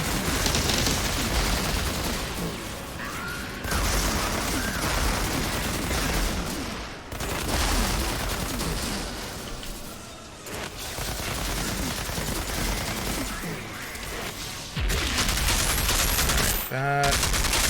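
Gunfire shoots at an enemy in the Outriders video game, dense sustained bursts broken by short pauses, loud and close, with a voice talking over parts of it.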